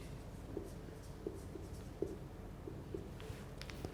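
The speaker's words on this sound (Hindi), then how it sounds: "हम लिखते हैं" A pen scratching out a note during a mathematics lecture, a faint series of soft, irregular strokes and taps against low background hiss, with no talk over it.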